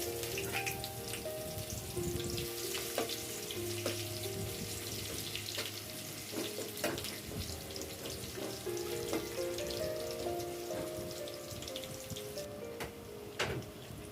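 Bay leaf and onion fry in hot oil in a wok, giving a steady, fine crackling sizzle with scattered small pops. A faint tonal hum runs underneath throughout.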